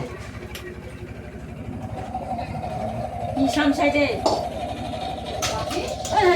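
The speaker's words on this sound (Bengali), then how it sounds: "দেখতে পাচ্ছি আমাদের নৌকাটা ঘুরছে" A steady, low engine drone runs throughout, a boat motor chugging nearby on the Padma River as the boat turns, with people talking over it.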